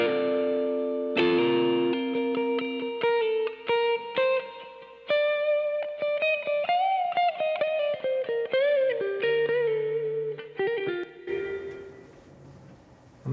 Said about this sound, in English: Let's see what the lead guitar sounds like, and I'm sending the lead guitar to the reverb.